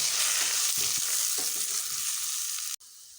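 Whole spices and onion masala frying in oil for pigeon curry give a dense, steady sizzle with soft stirring scrapes, then the sound abruptly drops to a quieter hiss near the end.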